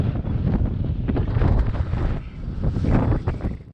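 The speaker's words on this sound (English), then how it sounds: "Windy side now." Strong gusts of wind buffet the microphone in a continuous, loud rumble, with faint watery sounds mixed in, on a sea kayaking trip among islands.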